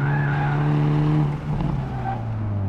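A 2022 Hyundai Elantra N on a race track locks its brakes during a hot lap, the engine tone dropping as the tires skid and scrub briefly, loud and close from inside the car.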